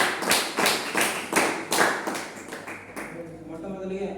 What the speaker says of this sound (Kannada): ಅವರಿಗೆ ತುಂಬ ಹೃದಯದ ಜೋರ ಚಪ್ಪಾಳೆ ಮೂಲಕ ಸ್ವಾಗತ ಕೊಡಬೇಕಂತ